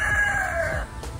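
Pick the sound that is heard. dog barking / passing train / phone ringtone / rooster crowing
rooster crowing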